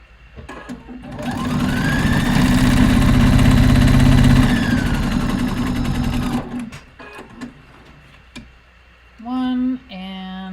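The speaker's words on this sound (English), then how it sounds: "Let's sew it." A sewing machine runs steadily for several seconds, stitching fabric with a fast whirring hum that speeds up and then slows to a stop. A few short clicks and brief tones follow.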